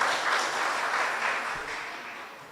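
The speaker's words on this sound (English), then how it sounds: "give her another round of applause" Audience applause for a singer at a Divali celebration in Princes Town, a dense wash of many hands clapping that holds steady, then slowly fades toward the end.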